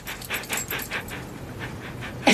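A dog pants rapidly and steadily up close, with a faint whimper mixed in and a brief louder sound at the end.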